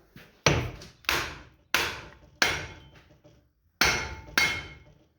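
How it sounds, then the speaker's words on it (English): Six heavy blows from a 3-pound hammer strike an electric motor's metal end cap in a slow, uneven rhythm, each loud bang ringing briefly before the next. "the quickest way to do this, it's going to be to just hit this and knock that back cap off"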